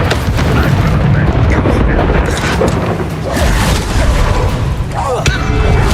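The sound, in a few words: Bombarda explosion spell, Hogwarts Legacy video game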